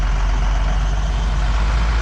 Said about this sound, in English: Big question is the ground going to hold the dump truck up?